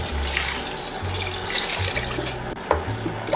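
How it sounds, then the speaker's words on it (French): A litre of chicken broth poured into a pot of French onion soup gives a steady, fairly loud rush of liquid that runs for several seconds, with a low hum and a couple of soft knocks near the end. "Il est l'heure alors d'ajouter notre litre de bouillon de volaille."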